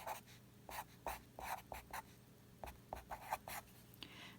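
A pen or marker writes an equation by hand in a quiet room, giving a string of short, close scratchy strokes in irregular bursts, with no talking.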